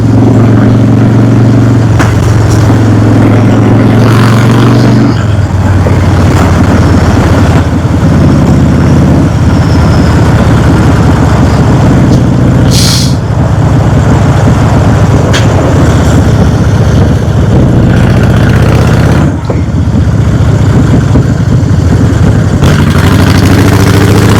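Car engine noise and buffeting wind picked up by a GoPro Hero 8 Black microphone while driving, a loud, constant low roar with gusty rushes and occasional thumps, with no voices over it.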